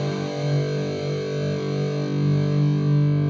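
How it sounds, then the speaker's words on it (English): A distorted electric guitar rings out with open, unmuted strummed chords, a thick buzzing wall of sound that stays steady and loud throughout. "So now I'm playing strings openly."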